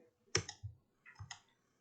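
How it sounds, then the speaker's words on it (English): Mouse clicks while modelling a small lidded box in DesignSpark Mechanical CAD software: two close, crisp bursts of clicking about a second apart, with quiet between them and no talk. "hold down the control key, get both of those, click and drag"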